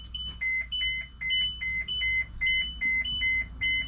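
A steady, repeating electronic warning beep from the leveling jacks of a 2018 Winnebago View 24D RV, high-pitched tones pulsing in a regular rhythm about twice a second, with low engine rumble underneath.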